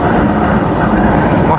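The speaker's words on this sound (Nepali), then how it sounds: "कस्तो हावा चलिरहेको" Strong wind blows across a road in Nepal's Mustang region, between Muktinath and Kagbeni, roaring and buffeting the microphone as a loud, low, rumbling rush.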